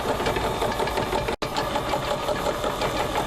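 A DC blower motor run from a computer power supply hums and whirs steadily, a close, continuous mechanical drone with a faint rattle, cut by one brief dropout near the middle before resuming.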